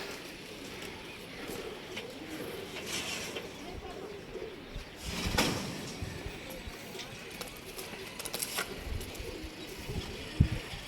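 Pigeons coo softly in a loft while being caught by hand, low, faint calls repeating under rustling and handling noises, with occasional sharp knocks nearby.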